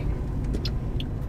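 Brand-new rental car driving on a rough mountain road to a secluded spot in the Romanian mountains; a steady close road and engine rumble with light rattles and clunks over the bumps, no talking.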